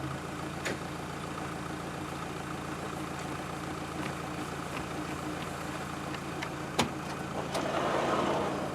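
A taxi's engine idles at rest, a quiet, steady low hum with faint ticks and a slight swell near the end.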